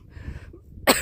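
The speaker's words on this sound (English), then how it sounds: "Man, can't get rid of this silly little cough." On a mountain hike, a single short cough bursts out near the end after a quiet stretch with faint low rumbling.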